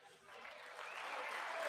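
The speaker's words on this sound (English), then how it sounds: "Republicans barely even clap for that." Congressional applause at the State of the Union, a faint, distant clapping that swells gradually over a couple of seconds.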